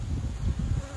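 Honey bees buzzing at an early spring hive inspection, a close, low continuous drone of many wings that swells and dips slightly over one second, with no talking.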